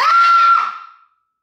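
A single loud human scream, held for about half a second before trailing off into silence.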